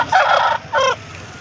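Two loud, close chicken calls at a poultry market, a long squawking cluck then a shorter one, with quiet background between.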